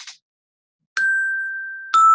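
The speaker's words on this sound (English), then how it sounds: "I'm going to play them on the bells" Two bell pitches ring one after the other, each a clear struck tone that sustains and slowly fades, played to demonstrate a pair of sung pitches, with a brief faint sound before them.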